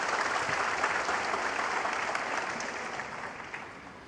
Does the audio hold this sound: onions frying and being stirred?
no